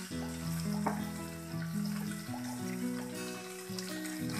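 Vegetables fry in ghee in a pan on a high flame, a close steady sizzle mixed with a strong tonal hum that runs throughout, with no talking.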